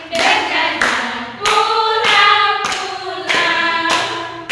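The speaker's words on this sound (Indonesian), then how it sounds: "Semua tepuk tangan." Audience claps along in a steady rhythmic beat during a patriotic Indonesian song, sharp group hand claps landing about every half second over sustained singing and music.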